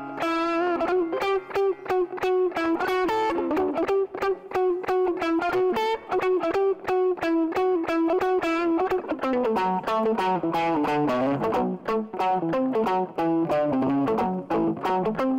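An electric guitar fitted with new pickups, coil taps switched on, plays a continuous run of bright, ringing chords and arpeggiated notes with a slightly driven tone, loud and alone.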